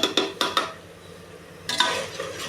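A metal spoon clanks against a pot several times while stirring onions with a ground coriander, curry leaf and mint paste for ghee rice, leaving a soft sizzle between two bursts of clatter.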